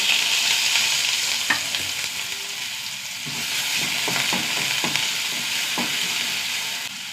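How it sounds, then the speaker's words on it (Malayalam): Mustard seeds and chopped onion frying in hot coconut oil, a steady close sizzle with a few sharp popping crackles scattered throughout and occasional stirring, with no talking. "വെളിച്ചെണ്ണ നന്നായി ചൂടാവട്ടെ. കുറച്ച് കടുക് ഇട്ട് കൊടുക്കുക."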